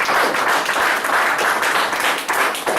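A church congregation bursts into steady, dense applause with scattered cheers, loud and close for the whole stretch, no speech over it.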